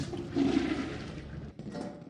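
A toilet flushes close by, a steady rushing swirl of water that holds for a couple of seconds, then drops and briefly surges again.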